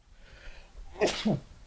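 A single close, loud human sneeze breaks a quiet room-tone background, sharp and sudden, with a faint murmur before it.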